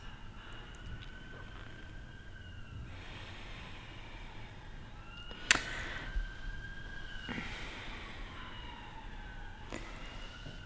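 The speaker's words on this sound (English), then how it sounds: "I can hear the sirens coming." Emergency vehicle sirens wail faintly in the distance, their rising and falling tones drifting over a steady background hiss, with no talking.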